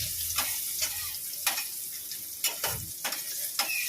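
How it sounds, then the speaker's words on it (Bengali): Pointed gourd (potol) frying in oil left over from frying bitter gourd, a steady sizzle broken by sharp intermittent stirring scrapes, close and moderately loud with no talking. "এই তেলেই এখন পটলটা ভাজা দেবো"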